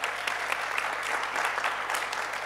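Steady, dense audience applause fills a Green Party primary event hall in Cologne, with continuous moderately loud clapping throughout and no pauses.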